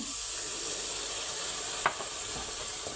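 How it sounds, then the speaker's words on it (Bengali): Spices with ginger-garlic paste, ground coriander, cumin, dried chili, turmeric and nut paste sauté in a pan for chicken meatballs, a steady close sizzle with a brief scrape of stirring partway through. "দিয়ে আমি ভালো করে কষাই নেব"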